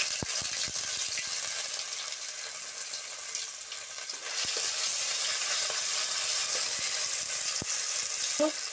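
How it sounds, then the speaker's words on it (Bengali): Spices, ginger paste, green chili, turmeric and tomato frying in oil in a pan, a continuous close sizzle with scattered clicks and scrapes of stirring, growing a little louder midway. "টমেটো খাওয়া ভালো করে ভাজতে হবে কাঁচা গন্ধটা যাওয়ার জন্য"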